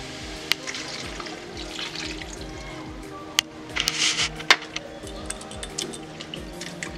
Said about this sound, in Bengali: এবার আমি দিয়ে দেবো দুধটা পরিমাণ অনুসারে দিতে হবে।